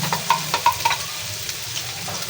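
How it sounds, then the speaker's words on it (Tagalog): Garlic sizzling in a pan while being stirred, with a few short scraping clinks of a utensil early on over a steady low frying hiss. "Simutin po natin."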